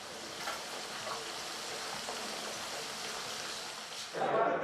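Fish fries in hot olive oil in a village kitchen, making a steady, continuous sizzle and hiss that grows slightly louder near the end.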